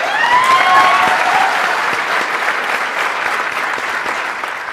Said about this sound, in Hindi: जोरदार तालियां दो